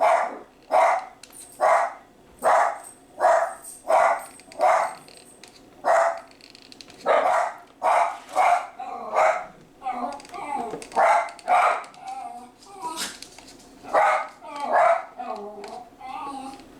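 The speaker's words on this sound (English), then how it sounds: "There's a squirrel outside and my dogs are just going crazy." Several dogs bark excitedly at a squirrel outside, loud, close and repeated in quick bursts with brief gaps, some yips and growls mixed in, a voice occasionally speaking among them.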